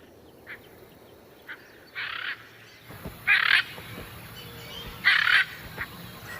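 Loud, harsh squawking calls from hyacinth macaws in the Pantanal, Brazil, several bursts spaced a second or so apart over a steady outdoor background.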